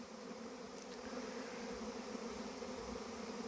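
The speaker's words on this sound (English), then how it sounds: "So we're standing in the middle of a bee swarm again" Honeybee swarm from a homestead hive moving into a box, a continuous faint droning hum of many wings, steady and even throughout with no voices.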